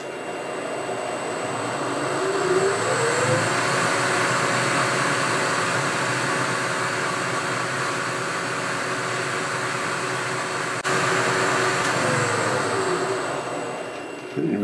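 Electric motor on a variable frequency drive (inverter) ramping back up in speed from about 46 RPM, a steady broadband whir with rising tonal lines, continuous and fairly loud throughout.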